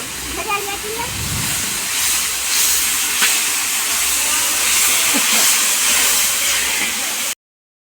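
Water poured onto spices frying in a pan for mango chutney in a village kitchen bursts into a loud steamy hiss that keeps sizzling steadily for several seconds, with a voice talking over it before it cuts off.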